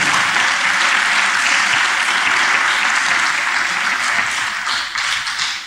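A church congregation gives sustained, dense applause that stays loud and steady throughout and tapers off slightly at the end.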